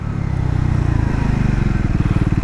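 A Scrambler motorcycle, either a 2026 Triumph Scrambler 400X or a Yezdi Scrambler, slowing from about 80 km/h under rear braking, its single-cylinder engine thumping in a close, loud, rapid pulse that steadies as the bike decelerates.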